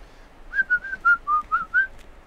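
A person whistles a short tune of about seven clear, steady notes while painting, close and fairly loud against a quiet background, with no talking.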